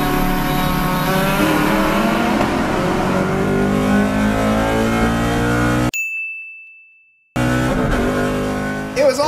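Mitsubishi Evo X with a four-cylinder engine racing a Mustang: loud sustained engine drone with harmonic bands, cut to silence for over a second, then the engine noise returns.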